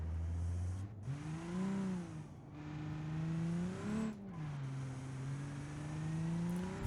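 Simulated Cummins Galaxie engine in a driving game, revving through shifts with wheelspin in third gear at partial throttle, pitch climbing and dropping in waves, loud and continuous with no voices.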